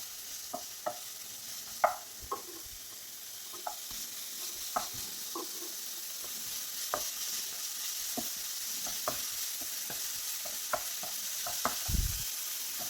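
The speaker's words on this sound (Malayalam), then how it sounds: "എല്ലാം കൂടി ഇട്ട് കൊടുത്തൊന്ന് ഇളക്കി കൊടുക്കണം." Mussel stir-fry (kallummakaya thoran) sizzles in a pan with a steady soft hiss, broken by scattered clicks and scrapes of a spoon stirring through it, close and moderately quiet, no talking.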